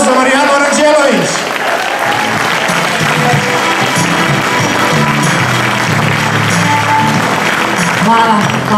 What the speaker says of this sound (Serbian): Veliki aplauz za Marijanu Ranđelović!